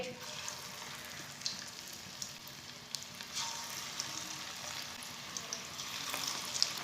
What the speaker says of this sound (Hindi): ऑयल हमारा गर्म हो चुका है। पकौड़े डाल लेंगे।